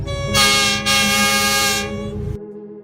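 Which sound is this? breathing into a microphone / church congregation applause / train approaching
train approaching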